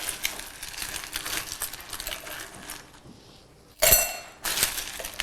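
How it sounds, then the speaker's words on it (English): Ice cubes drop into wine glasses: a run of rapid rattling clinks and taps, a short lull, then a louder bright clatter and one more burst of clinking, all nearby and with no one talking. "So each glass will get some ice."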